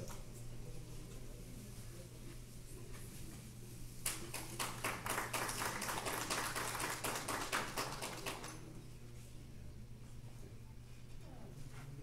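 Applause for a medal presentation at a Peruvian municipal officials' swearing-in ceremony, a burst of clapping rising abruptly for about four seconds in an indoor hall, then cutting off to quiet room tone with a steady hum.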